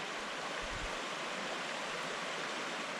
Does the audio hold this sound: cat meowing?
no